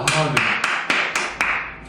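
Six sharp, evenly spaced claps ring out in a senior welfare center class on social media use, set against a steady tonal background and briefly overlapping a voice.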